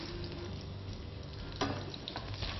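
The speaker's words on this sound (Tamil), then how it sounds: "நறுக்கிய பூண்டை ஆட் பண்ணிவிட்டு உடனே கருவேப்பிலை எடுத்து நம்ம ஆட் பண்ணுறோம்" Sliced garlic and curry leaves frying in hot oil for a Cuddalore-style fish curry, giving a steady close sizzle and crackle with a brief louder spatter partway through.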